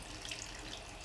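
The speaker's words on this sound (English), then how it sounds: "you wanna add hot water, and you're gonna soak this for about 25 to 30 minutes" Hot water pours over dried chilies for pozole rojo, a brief, quiet, steady hiss of flowing water with no voices.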